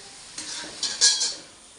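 Papad crisps frying in hot oil in a large wok, short bursts of sizzling and crackle with light stirring scrapes, close and brief.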